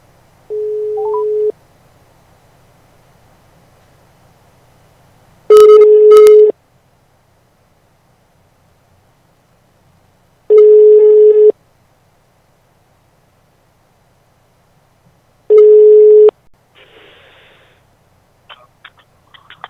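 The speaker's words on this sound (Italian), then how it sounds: "Adesso facciamo una telefonatina." A telephone line tone sounds during a call: four separate steady beeps spaced several seconds apart, with silence between them and faint dialing chirps near the end, loud and close.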